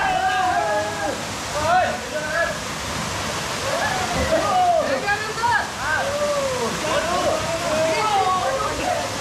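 Rainadevi waterfall at Saljhandi roars in a constant broad rush while people swim in the pool, with voices talking and calling loudly over the water.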